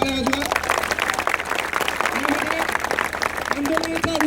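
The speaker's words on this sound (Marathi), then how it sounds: "त्यांच्यासाठी जोरदार टाळ्या वाजवा" A crowd at a student protest applauds, producing continuous, dense clapping. Voices and speech run over it, and sustained tonal sounds like a loudspeaker or music come in at intervals.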